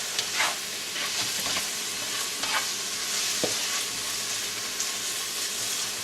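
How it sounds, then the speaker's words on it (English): Pancit bihon rice noodles being stirred and fried in a pan: a steady, close sizzle runs throughout, broken by scraping stirs of the utensil, with no talking. "A lot of Asian dishes, especially pancit,"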